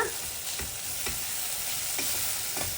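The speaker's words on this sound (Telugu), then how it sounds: "ఒక్కసారి కలుపుదాము." Soft tomato pieces cooking in a pan sizzle continuously while a spoon stirs them in repeated scraping strokes about every half second.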